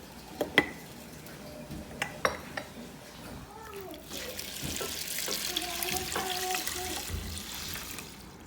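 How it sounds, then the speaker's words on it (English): Tap water runs steadily into a cooking pot in a home kitchen, a broad rushing stream that builds after a few sharp clinks of dishes, with some voices in the background. "I got my water pouring in"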